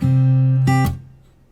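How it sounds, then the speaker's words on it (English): Two plucked acoustic guitar strings ring together, then a quick slap mutes them, leaving a short damped buzz fading away. "You can just do a little slap and just mute the sound."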